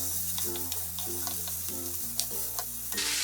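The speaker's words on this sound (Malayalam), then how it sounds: "ഫിഷ് ഇട്ട ഉടൻ തന്നെ നമ്മളിതൊന്ന് ഇളക്കി കൊടുക്കണം, അല്ലെങ്കിൽ ഇത് ഒട്ടിപ്പിടിക്കാൻ സാധ്യതയുണ്ട്." Fish pieces frying in hot oil in a pan for a banana-leaf fish roast, with a soft continuous sizzle, light stirring taps and a steady hum underneath. No voices.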